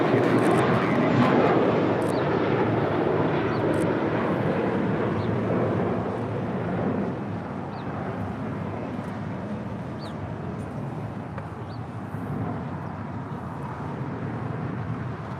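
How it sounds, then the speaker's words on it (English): A JetBlue Airbus A321 jet departs LAX bound for Miami, its engine roar loud and broadband at first, then easing to a steadier, lower rumble as it climbs away. "That was a defining moment departing to Miami, Florida. JetBlue Airways Flight 2885 and A321."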